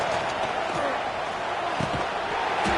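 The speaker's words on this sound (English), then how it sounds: "It's early, but this crowd is fired up. Listen to this noise here." Steady roar of a fired-up stadium crowd at an early stage of a college football game between Clemson and Oklahoma, broad and continuous with faint thuds and voices mixed in, no lull across the stretch.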